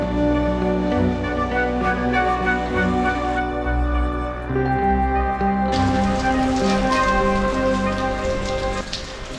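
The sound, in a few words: rain falling at Palakkad fort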